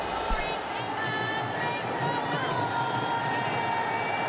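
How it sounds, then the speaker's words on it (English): A large crowd at a Pakistan versus Afghanistan cricket match at the 2021 ICC Men's T20 World Cup roars steadily in the stadium, loud and sustained, under a commentator's voice. "It's the best audience, the best crowd we've had."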